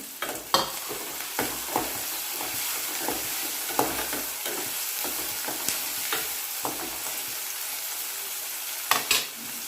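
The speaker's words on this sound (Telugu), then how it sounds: "ఇప్పుడు టమాటాలు ఇందులో వేసుకొని కలుపుకోవాలి" Tomatoes stirred into mutton curry for a gongura mutton dish, with a sizzling pan bed and repeated scraping strokes of a spoon at a steady, unhurried rhythm, close and clear with no talk.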